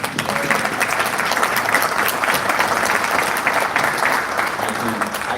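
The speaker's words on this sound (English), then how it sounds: "I think you deserve a round of applause" Audience applause at a Halifax community event fills the room, with dense, steady clapping that holds at a loud, even level from start to finish, and some voices mixed in.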